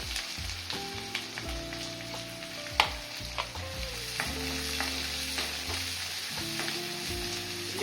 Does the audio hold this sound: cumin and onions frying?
yes